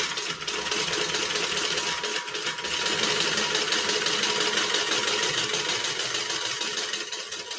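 A sewing machine topstitches down the side of a seam at one-eighth of an inch, its motor whirring in a steady, continuous, fairly loud run with only brief dips and no talking.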